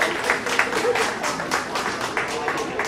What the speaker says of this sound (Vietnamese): các bạn một tràng pháo tay cho cô Hà